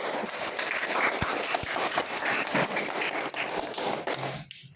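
Students in an Indonesian classroom clap together during a lesson, a dense, steady patter of many hands that fills the room for several seconds before stopping abruptly.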